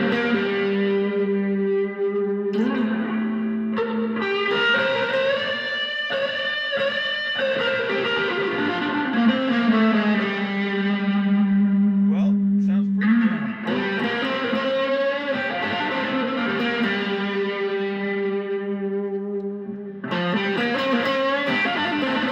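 Electric guitar played through an Electro Harmonix Turnip Greens overdrive and reverb pedal, sustained warm distorted notes and chords ringing steadily with a clear reverb tail, loud and alone without talk.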